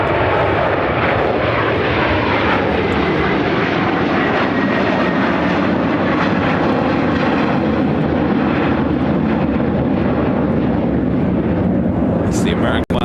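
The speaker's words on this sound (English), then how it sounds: "It's the American West retro livery of that A321 with American." An American Airlines Airbus A321 in American West retro livery roars past at an airport, loud and continuous broadband jet noise with a rising whine, while people talk nearby.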